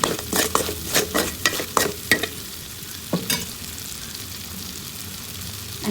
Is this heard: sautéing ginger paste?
yes